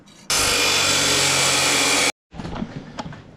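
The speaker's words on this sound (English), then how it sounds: "we're gonna flapper wheel that, get some nice clean metal to weld to on each side" A flapper wheel on a grinder sands a flat spot down to clean metal on a mini sport quad frame, a loud continuous high whine for nearly two seconds, then a quieter tail of clatter after it stops.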